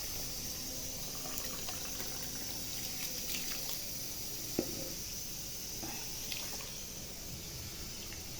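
Soaked rice for sweet yellow zarda is poured from a container into a pan of water, a soft running, splashing trickle with a few light clinks and one sharper knock midway, no talking.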